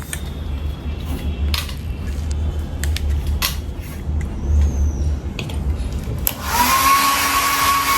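A hair dryer blows a steady, loud whoosh while drying a furry dog after its bath, with clinks and small handling sounds throughout and a sharper high-pitched rise of airflow near the end.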